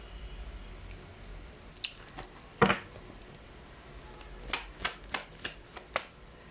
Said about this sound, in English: Cards are actually flying out.